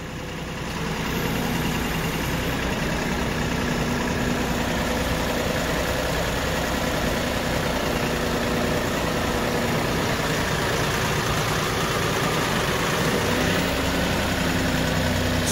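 Kioti NX4510 HST tractor engine running at low RPM while its loader bucket scoops a big heap, a steady low diesel drone with hydraulic effort, continuous and close for the whole stretch.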